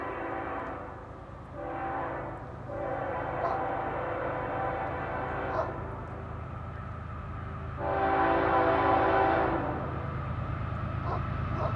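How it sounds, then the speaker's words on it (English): A freight train runs around a superelevated curve near a railroad crossing, its steady loud rumble and rolling wheels filling the scene as the locomotive horn sounds in long blasts. "I'll see how fast this train's going"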